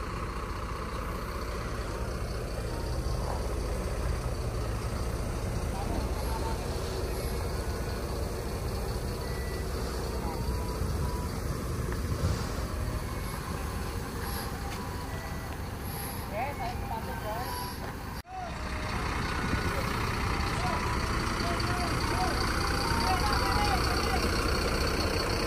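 Two Mujijaya Putra Mandiri buses with Jetbus 5 MHD bodies reversing, engines rumbling steadily nearby with faint intermittent beeps, while someone talks over them.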